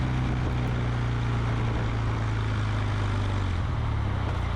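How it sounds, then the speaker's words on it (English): Factory exhaust of a Kawasaki W800 Cafe motorcycle gives a steady, even low drone throughout, close and unbroken with no talk. "The sound exhaust has the right perfect note and pitch and a nice even tone."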